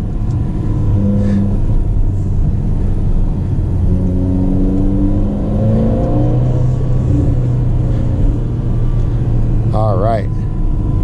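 Inside a Ferrari Portofino on the move, a constant loud engine rumble and road drone carry varying whirs and rising mechanical tones, with someone speaking over it and a brief chirp near the end.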